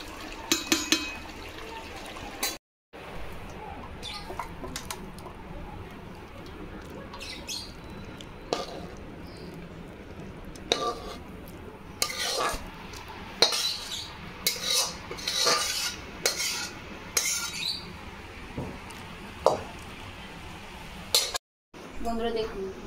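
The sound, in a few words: cooked pumpkin curry being poured out of the pan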